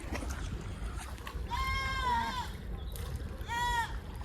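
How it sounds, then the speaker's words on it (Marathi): A goat bleats twice, a long wavering cry and then a shorter one, over steady outdoor background noise. "बकरी"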